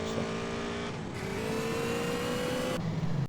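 Rented scooter driven in a Ukraine-set online roleplay game, its engine a steady, loud buzzing drone whose pitch climbs as it accelerates, with a brief shift near the end.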